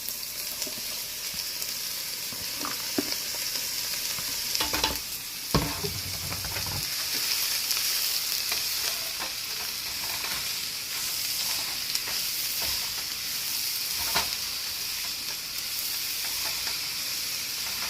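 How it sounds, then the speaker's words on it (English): Mixed vegetables frying in grapeseed oil in a pan, a steady bright sizzle and hiss running throughout, with a few clattering stirs and scrapes partway through, close and clear with no talking. "You hear that sizzle?"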